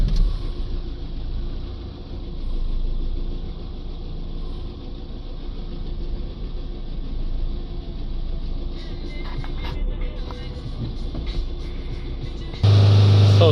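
An Iveco Daily 2.3 diesel engine runs at a steady idle, a continuous close low drone with no talk and a louder burst at the very end.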